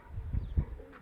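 Pigeons on a rooftop give a few soft, low coos close by, with short muffled pulses and no talk.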